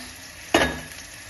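Vegetables with carrots being stirred in a frying pan for veg manchurian: a single loud sizzling burst as the food is turned, fading over half a second into a low, steady hiss.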